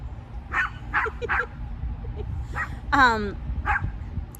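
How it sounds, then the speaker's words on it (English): A dog barks and yips in short repeated bursts, some rising into a whimpering whine, heard at moderate distance with a person talking in between. "Brady, that dog is far down there."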